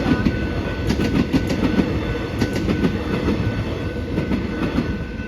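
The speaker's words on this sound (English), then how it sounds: "The train's coming here." A train rumbles past at close range at a level crossing at night, wheels clacking in a steady rhythm over a constant low roar, loud throughout.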